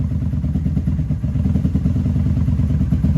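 A 1994 Honda Magna motorcycle engine idles while warming up after a carburetor float bowl drain, a steady close, loud low rumble with even rhythmic pulsing throughout and no talk.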